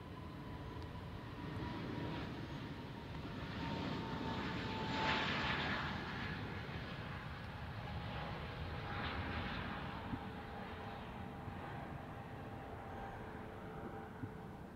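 A jet aircraft roars at Ontario International Airport in California, a broad steady rumble that swells and fades over about fifteen seconds. It sounds moderately close with no talk.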